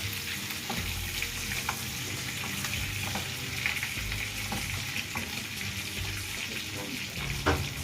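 Sugar melting and sizzling in hot oil for Visayan-style adobo, a steady close frying hiss with faint clinks of stirring throughout, no voices over it.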